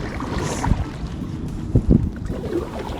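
Wind gusting over a small quarry pond around a fishing boat, a steady rushing buffet with low rumbling surges and brief louder gusts hitting the microphone.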